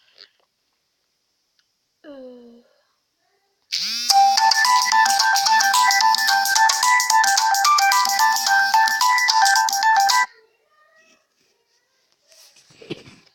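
A melodic phone ringtone plays loudly for several seconds, with a few faint short sounds before and after in otherwise quiet surroundings.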